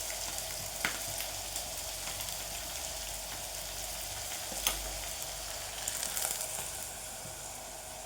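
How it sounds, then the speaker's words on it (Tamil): Chopped green chillies and dried red chillies sauté in a hot pan for a bottle gourd dish, giving a steady soft sizzle with a few louder crackles and stirring scrapes throughout, with no voices. "ஒரு மூணு பச்சை மிளகாய் ஒரு ரெண்டு வரமிளகாய் கட் பண்ணி வச்சுருக்கேன் இதை சும்மா வதக்கிட்டு"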